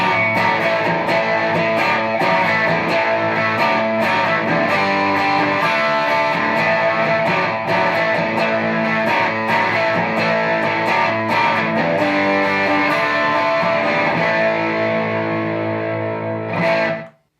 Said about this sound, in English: let's check out how the pedal sounds with the almighty Telecaster